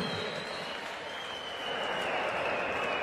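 Darts crowd at the Coral UK Open semi-final draw applauding, a dense, fairly distant wash of clapping and crowd noise that swells slightly toward the end, with a faint steady tone running through it.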